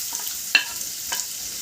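Chopped garlic and ginger fry in a pan, a soft steady sizzle broken by two quick scraping stirs, with no voice.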